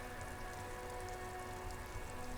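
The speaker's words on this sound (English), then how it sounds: "It's raining, Kim." Steady rain in the video game Disco Elysium falls as a faint, constant hiss, an even wash of droplet noise with a low hum underneath and no other sounds.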